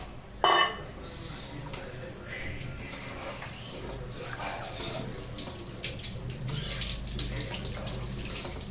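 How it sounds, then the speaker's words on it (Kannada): Water is poured into a cooking pot for vegetable pulao, two glasses of rice with four of water, starting with a sharp clank of metal and followed by a continuous splashing pour. "ಇದಕ್ಕೆ ನಾವು ಇವಾಗ ನೀರು ಹಾಕೊತ ಇದ್ದೀವಿ."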